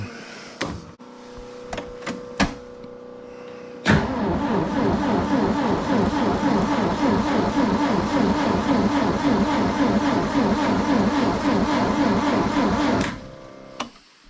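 A skid steer in freezing cold, its starter cranking over in a steady rapid chugging rhythm for about nine seconds after a few clicks, the engine struggling and failing to catch before the cranking stops.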